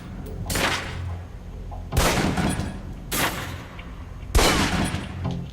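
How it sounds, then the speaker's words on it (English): Pistol shots fired at a target in the video game Alpha Protocol: four sharp, loud reports spaced about a second or two apart, each with a short ringing tail over a steady background. "Equip the pistol, then aim down range and take some shots at the target."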